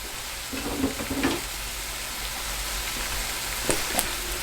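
Plant-based sausage sizzles softly in a frying pan while a utensil stirs and breaks it up, with a few light scraping clicks over a steady quiet crackle, fairly faint.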